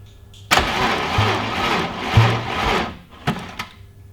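A BMW S52 engine fitted in an E30 cranks on the key in two or three close, loud bursts of starter whirring, with short quieter gaps and a faint click near the end.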